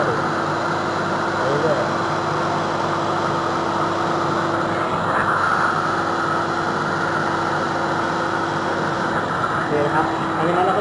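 Karcher Puzzi 100 Super carpet cleaner sucking up water from a floor, a loud, steady vacuum roar with a constant motor hum throughout, while someone talks over it.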